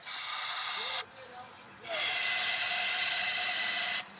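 Two bursts of aerosol spray hiss close by into the engine of a 1969 Ford F-250, a one-second blast, a brief pause, then a longer sustained spray.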